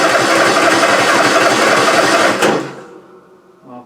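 A new MTD Gold lawn tractor engine cranks loudly and steadily for about two and a half seconds, then stops abruptly, leaving near silence with a faint click at the end.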